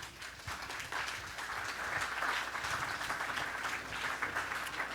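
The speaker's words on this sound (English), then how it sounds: "round of applause for Justin." A conference audience applauds a speaker at a startup event, a sustained, moderately loud wash of many hands clapping that swells after the first second and holds steady.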